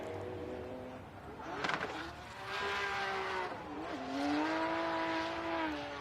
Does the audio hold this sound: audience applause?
no